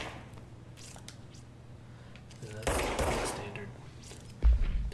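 Standard pistol firing in the video game Control, a few sharp shots heard indoors against a low hum, with one louder burst midway and a strong thump near the end.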